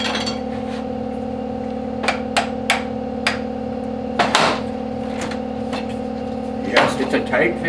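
A brass piece pressed into a drilled wooden body of a Deulen knife sharpener, a few sharp knocks and clicks against a steady machine hum.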